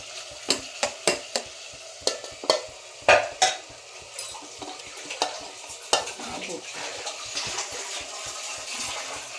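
Thick-cut cauliflower pieces drop into a hot pan and are stirred for curry, giving a run of sharp spoon-and-pan clatters over a soft sizzle, close and clear, then steadier frying.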